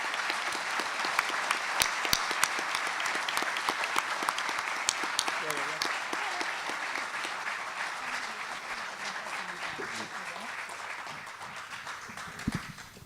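Sustained audience applause in a university lecture hall welcomes Emir Sader, a dense steady clapping that fades slightly toward the end, with faint voices murmuring underneath.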